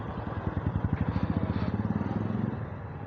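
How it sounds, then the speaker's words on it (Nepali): A nearby motor vehicle engine putters with a fast, even throbbing pulse, fairly loud and steady before easing off toward the end. "हेर्नु त्यो गाडी कस्तो गइरह नि"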